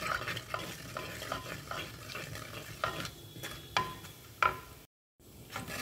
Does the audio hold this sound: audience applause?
no